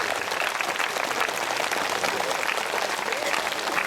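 A crowd claps steadily and densely at a spiritual Buddha Poornima celebration, a continuous wash of applause that fills the whole moment.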